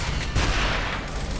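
Rapid gunfire in the video game Gears of War, a loud, dense barrage of overlapping shots and blasts that keeps going without a break, with no voices over it.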